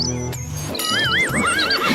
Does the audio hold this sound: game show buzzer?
no